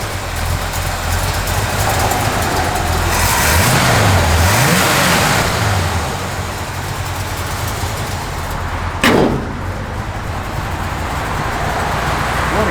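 A 1959 Chevrolet Apache truck's cammed engine runs and revs, a loud, close, throaty rumble with a lopey idle and a couple of rising and falling revs, plus a brief sharp knock near the end.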